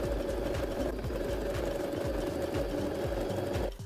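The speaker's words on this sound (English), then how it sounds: "Now I sew the underside of the elastic to the lining." A sewing machine stitches elastic onto a lining in a continuous, even run of rapid mechanical whirring, slowing and stopping just before the end.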